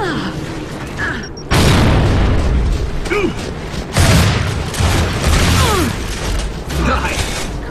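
Grenade explosion during a Gears of War 3 2v2 multiplayer match: loud, close bursts of booming noise, the first after a quieter stretch and another a few seconds later, amid mechanical combat clatter.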